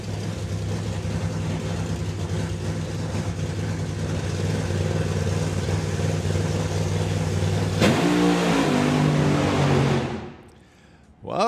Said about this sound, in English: Kevin Chapman for the Thermareg Mustang